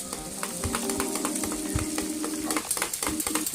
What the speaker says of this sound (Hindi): कलेजी शामिल करें और अच्छी तरह तेज़ आंच पर पकाएं।